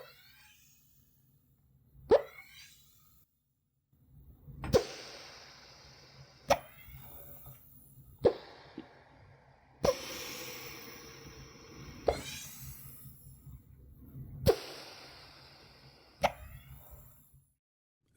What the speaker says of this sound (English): That sound clip was harvested by an engineering team from General Electric, which is developing an earthworm-inspired tunnel-boring robot